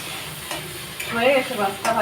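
Prawns frying in a pan while being stirred, with a steady sizzle and scraping strokes of a spoon recurring every half second or so, close and fairly loud.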